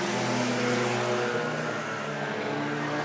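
Race cars at Worthington Speedway roar past in a loud, sustained blend of engine drone and harmonics, with pitch shifting as the pack passes the stands, no talk over it.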